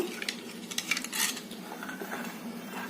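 A spoon scrapes and clinks against a bowl while stirring a mixture for Kerala-style nendran banana chips. It makes quiet, irregular metallic taps and scrapes in a soft, close-up sequence.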